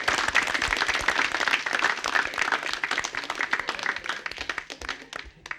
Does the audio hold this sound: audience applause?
yes